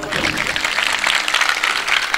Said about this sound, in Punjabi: ਤਾੜੀਆਂ ਜਰਾ ਗੱਜ ਕੇ ਲਾਓ।